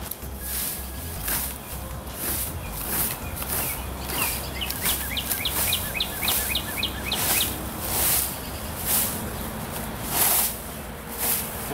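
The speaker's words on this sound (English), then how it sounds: "The birds are chirping. I like that." Birds chirp outdoors in a yard during autumn leaf raking: a quick run of high, repeated chirps in mid-stretch over broad rustling background noise.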